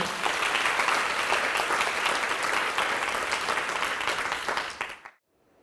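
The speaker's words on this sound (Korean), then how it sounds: "다시 한번 큰 박수 부탁드리겠습니다." Audience at a student award ceremony breaking into loud, sustained applause, a thick wall of many hands that holds steady before dying away abruptly at the end.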